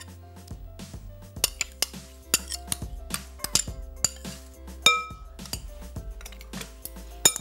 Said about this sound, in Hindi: और इसको हमने खूब अच्छी तरीके से मिक्स कर लेना है।